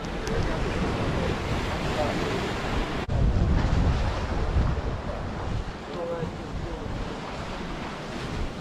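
Sea waves and wind on Konnos beach in Cyprus, a continuous roar of surf broken up by gusty wind buffeting the microphone.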